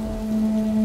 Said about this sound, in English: it started raining heavily.